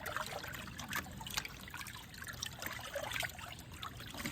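Water trickles and splashes in a sink or basin as turnip greens are swished and rinsed, a soft, continuous dribbling with small bursts, fairly close and heard alone.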